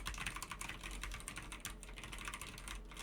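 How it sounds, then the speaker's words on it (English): Continuous typing on a computer keyboard placed behind a FIFINE Ampligame A8 microphone, a quick stream of clicky keystrokes, slightly softer and more distant-sounding, with no talking. "Keyboard behind the microphone."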